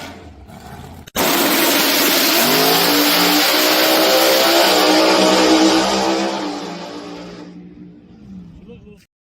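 Shadow 3 race car engine on a test run, bursting into a loud, close roar that revs hard for several seconds before easing off and dying away, with brief chatter before it starts.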